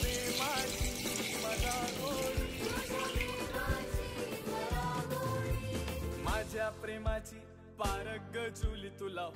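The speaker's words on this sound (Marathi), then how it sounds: "पूर्ण हे गुळाचं पाणी करून घेतलेलं आता आपण हे गाळून घेणार आहोत" Jaggery water pouring and splashing steadily through a strainer into a vessel, close up, with faint clinks of utensils.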